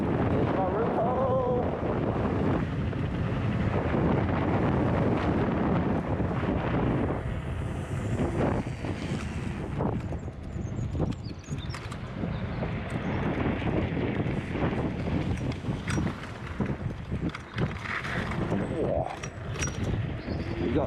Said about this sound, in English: This wind is horrible.